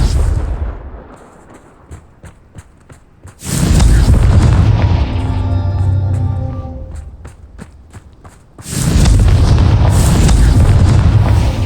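Two heavy Confringo spell explosions in the video game Hogwarts Legacy burst out loud and close, each with a booming rumble that lingers and fades, and faint footsteps run in between.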